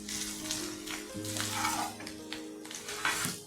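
Chili powder and royal garam masala hit half-fried onions in a pan for mutton curry, giving a steady soft sizzle and hiss with faint stirring, under continuous background music.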